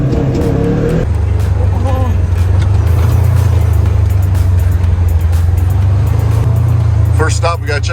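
A BMW R18 motorcycle rides off with a loud, steady, low engine drone close by, and wind and voices mix in over it.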